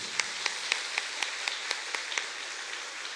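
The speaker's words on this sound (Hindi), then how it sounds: "जोर से ताली बजाकर प्रभु को धन्यवाद।" A congregation claps together in a fast, even rhythm at a New Year's Eve night vigil prayer service in Margherita, Assam. About a dozen sharp, fairly faint claps are heard without any talking.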